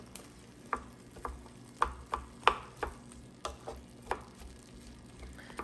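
Onions and ground meat cooking in a pan for a taco nacho casserole, with a run of sharp spatula scrapes and knocks against the pan at an irregular rhythm over a quiet, steady background.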